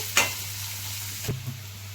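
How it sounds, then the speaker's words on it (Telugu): Sliced onions and green chillies fry in a pan, a steady close sizzle broken by two brief clinks of a spoon stirring, with no talk heard. "ఇప్పుడు సన్నగా తరిగిన ఉల్లిపాయ ముక్కలు వేసుకుందాం పచ్చిమిర్చి ఈ ఉల్లిపాయ ముక్కలు బ్రౌన్ కలర్ వచ్చే వరకు వేయించుకోవాలి"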